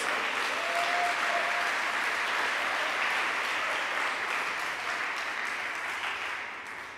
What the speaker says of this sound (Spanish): Ese aplauso fuerte para Jesús.